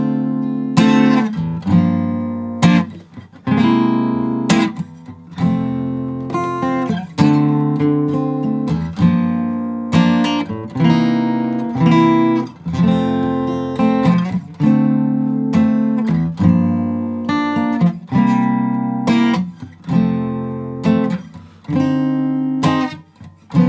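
Guitar playing the first eight bars of the verse of a song, a loud, steady run of plucked chords with a regular rhythmic pulse, alone with no talking.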